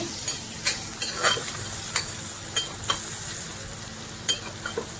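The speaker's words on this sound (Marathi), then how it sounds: "मस्त पैकी आहे ना कांदा आपल्याला परतायला लागतो" Onion sautéed in a pan, a steady close sizzle with repeated sharp scrapes of a spatula stirring at an uneven rhythm, no voices.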